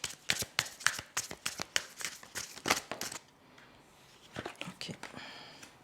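Tarot cards are shuffled by hand in quick, crisp papery riffles and slaps during a reading, close and distinct, before the shuffling gives way to quieter handling and soft murmuring.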